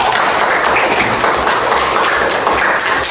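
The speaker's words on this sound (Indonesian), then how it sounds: "Beri tepuk tangan dulu." Classroom applause from students during an English lesson, a loud, close, steady patter of many hands clapping throughout.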